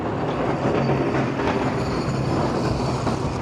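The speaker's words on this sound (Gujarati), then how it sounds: "અત્યારે આ ટ્રામ છે." A New Orleans tram rolls along its rails with a steady, loud rumble and clattering wheel noise, heard close by without a break for the whole stretch.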